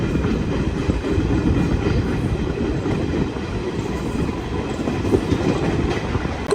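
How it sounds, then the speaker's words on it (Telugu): DEMU train running after leaving Bollaram station, a dense continuous rumble of wheels and carriage heard from inside, with faint clickety-clack over the track. "బొల్లారం నుంచి బయలుదేరిపోయింది మన ట్రైన్"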